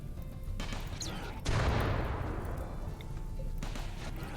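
Autocannon turrets firing at a centipede in RimWorld: a dense, continuous burst of rapid booming fire that swells suddenly and then tails off over a couple of seconds against a noisy background.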